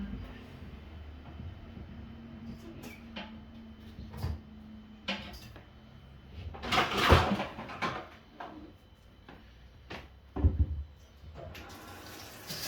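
Fish tank ornaments and items being rinsed under a running tap, with water splashing and clattering close by in uneven bursts, loudest in the middle, and faint talk in the background.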